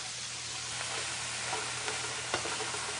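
Onions and peppers hiss and crackle in a hot pan while being stirred, with occasional scraping clicks over a steady close sizzle.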